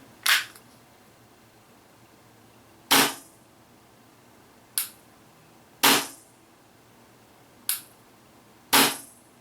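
An Action Army AAP-01 airsoft gas pistol fires single semi-auto shots, six sharp snappy cracks spaced irregularly over several seconds, close and crisp against a quiet background.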